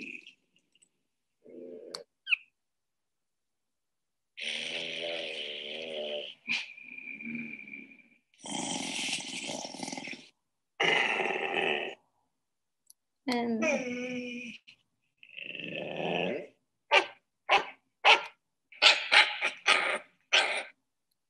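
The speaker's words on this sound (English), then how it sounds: "They are dogs." A series of dog sounds, whines, yelps and short barks, comes in separate bursts with pauses between, ending in a quick run of sharp yips.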